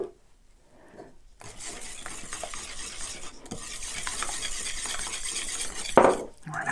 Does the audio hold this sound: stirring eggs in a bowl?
yes